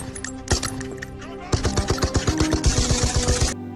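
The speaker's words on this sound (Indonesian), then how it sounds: "Saat pasukan Jerman mendekat, Kisevatov melepaskan tembakan terakhirnya." Gunfire in a war film scene with German troops closing in, a few scattered shots followed by a rapid, loud burst of repeated rounds in a steady rhythm.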